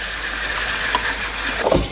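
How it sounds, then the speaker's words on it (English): A kitchen sink power sprayer blasts water through a mandoline slicer, giving a steady, close, rushing hiss that runs unbroken for the whole stretch, with a brief splashy surge near the end. "let's bring it over to the sink and see if the power sprayer can clean that out quickly"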